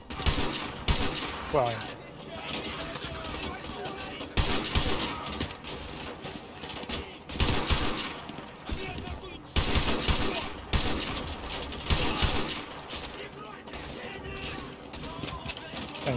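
Bursts of automatic gunfire crackle in Call of Duty Modern Warfare 2 Remastered, with dense, repeated volleys and impacts across the stretch while a player speaks briefly over the shooting.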